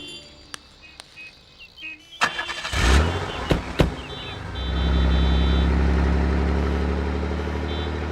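A car door thuds, then the engine starts and revs, settling into a steady, loud idle and pull-away rumble, with a few faint beeps and clicks beforehand.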